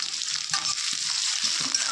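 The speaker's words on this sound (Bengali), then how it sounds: "দিয়ে নেড়ে দেবো, একটু ভাজা ভাজা হয়ে যায়।" Onions, garlic and green chilli frying in oil, a loud close sizzle with low scraping thumps of a spatula stirring the pan throughout.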